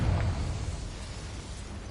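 A Confringo fire spell erupts in Hogwarts Legacy, a low, rumbling burst at the start that quickly fades into a soft, lingering roar with no voices.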